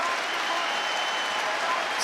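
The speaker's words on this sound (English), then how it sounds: "the crowd raising the roof here on the O2 Arena" An arena crowd at the O2 Arena roars and applauds during a title fight, a dense, sustained wash of cheering with no distinct breaks.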